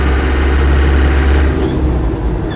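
An ex-military Land Rover 90 hardtop with a normally aspirated diesel engine runs loud and close, a steady low rumbling idle with a faint rise in revs and no voices over it.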